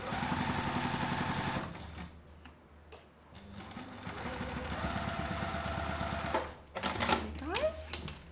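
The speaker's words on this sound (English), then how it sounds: "And then I just use do a quick baste here" Sewing machine basting together the layers of a fabric bag along the bottom edge, fast rhythmic stitching in bursts that stop and restart, with brief handling noises between runs.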